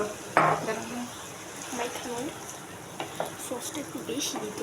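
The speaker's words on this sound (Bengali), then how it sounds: "কিছুক্ষণ নেড়ে চেড়ে মিশিয়ে নিব" Duck khichuri with added tomato sauce being stirred in a pan, a soft sizzle under repeated spoon scrapes and clinks against the metal, with faint background voices.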